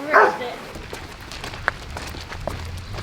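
A single dog bark near the start, followed by faint scattered sounds and a quiet background.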